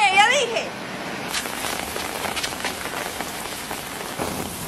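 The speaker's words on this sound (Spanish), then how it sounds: "¡Hijo, deja de andar jugando bajo la lluvia!" Steady rain falls on a surface with a dense, even patter throughout, and a brief whistling tone rises near the start.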